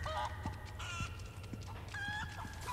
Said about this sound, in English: Chickens? Thanks for the eggs.